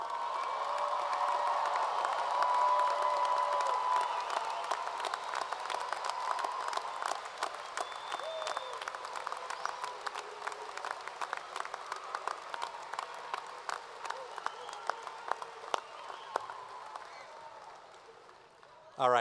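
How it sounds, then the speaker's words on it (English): A large commencement crowd cheers and applauds graduates of the University of Evansville class of 2023. Dense clapping and whoops stay loud at first, then thin into scattered claps, with voices in the crowd. "I don't think you're done cheering yet for graduates of 2023."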